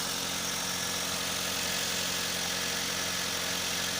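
A car engine idles steadily with the motor running while the battery voltage is checked. It makes a continuous, even rumble close by, with no talk.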